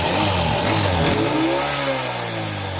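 A Honda XRM 125 motorcycle engine with an overheating fault runs loud and close, revving up and then settling into a steady, rough drone with no talking.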